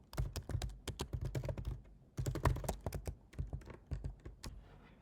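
Fast, steady typing on a computer keyboard, with dense key clicks and a few heavier thunks running continuously for several seconds, close by and with no voice.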